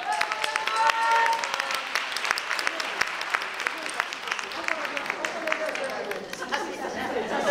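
Crowd applause and chatter at a Christmas naruko yosakoi dance performance, dense clapping with sharp hand claps and voices mixed in throughout, steady and fairly close.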